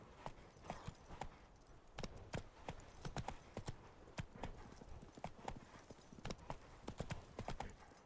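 Hooves of a horse trotting in the video game The Witcher 3 make a steady, brisk clip-clop rhythm of sharp, close hoofbeats that continues evenly throughout at low volume.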